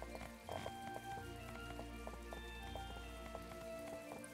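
Steady, even rain patters throughout in the video game My Time at Portia while riding a horse through a wheat field, with soft game music tones layered over it and no voices.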